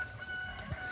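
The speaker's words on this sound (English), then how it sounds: "I still hear that rooster." A rooster crows in the distance, faint and brief against a steady background hum.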